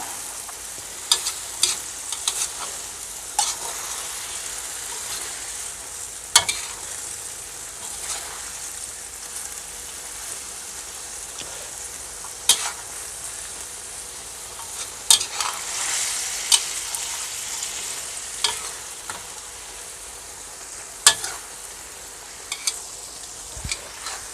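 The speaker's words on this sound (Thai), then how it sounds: "ผัดให้เข้ากันครับ" Chicken offal stir-fried with holy basil in a pan, a steady close sizzle of frying running throughout with frequent scraping clicks of the spatula stirring, no voices.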